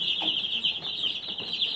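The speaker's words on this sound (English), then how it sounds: "when we raise Cornish Cross meat chickens, we always do all roosters" Cornish Cross meat chicks cluck and peep softly and continuously, with a steady high-pitched chirping chorus running throughout.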